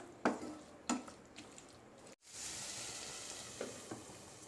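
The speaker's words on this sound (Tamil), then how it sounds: "இதில் நம்ம போட்டிருக்க மிளகாத்தூள், கரம் மசாலா, இந்த பச்சை வாசனைலாம் போகிற வரைக்கும் ஒரு 5 நிமிஷம் நல்லா கலரி விட்டுக்கலாம்." Spiced stuffing with chilli powder and garam masala frying and being stirred in a pan, a soft steady sizzle broken by a few distinct scrape strokes and a brief pause.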